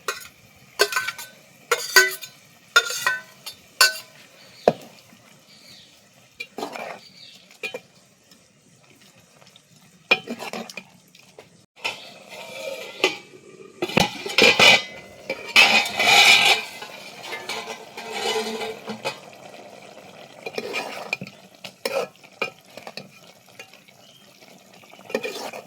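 Cauliflower is stirred into boiling masala in a pan, with intermittent scraping and wet stirring strokes over a faint simmer, close and moderately loud, sometimes bunched into rapid bursts.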